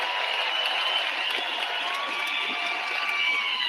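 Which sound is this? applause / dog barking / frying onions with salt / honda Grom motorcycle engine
applause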